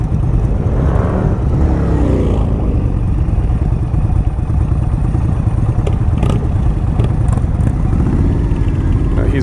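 A 2018 Indian Chief Dark Horse motorcycle ridden on the road, its steady, loud engine drone and wind rush continuing throughout with a few brief clunks and clicks mid-ride.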